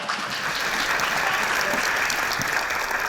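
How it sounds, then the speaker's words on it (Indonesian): Studio audience applauding for a guest on the Kick Andy talk show, a steady dense burst of clapping from a full room, loud and even throughout. "kita berikan aplaus untuk Erika"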